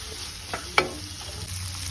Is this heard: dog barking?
no